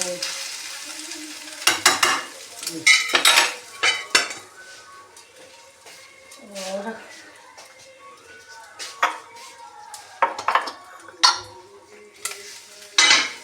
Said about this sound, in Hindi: हम गरम तेल होता है ना इसके साथ में भूनते रहते हैं